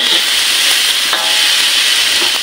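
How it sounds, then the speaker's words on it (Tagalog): Water boiling in a pot on the stove for sinigang, a steady close bubbling hiss with faint stirring clinks, no voices. "kumukulo na ang aking tubig"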